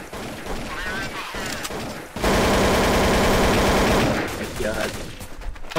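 Close, loud gunfire in Counter-Strike: Source, a dense sustained burst of rapid shots in the middle, with sparser activity and voices talking before and after.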